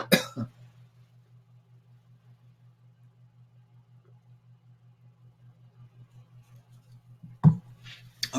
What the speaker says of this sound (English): I got a cough here just a minute.